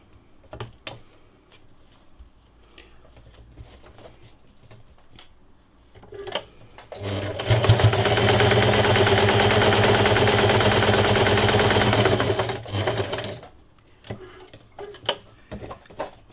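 A sewing machine stitches a fabric face mask, its rapid mechanical whir running steadily for about six seconds, with scattered clicks and handling noises before and after.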